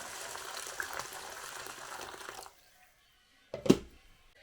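Boiling water from a kettle pours in a steady, splashing rush over rinsed leaves for a couple of seconds, then stops; after a pause comes a short clatter, like a lid set down.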